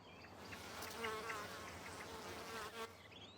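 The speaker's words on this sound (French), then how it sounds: "Une abeille butine des centaines de fleurs pour remplir son estomac" Honeybees foraging among apple tree blossoms, a close, continuous buzzing hum of wings with several insects overlapping, faint and steady without voices.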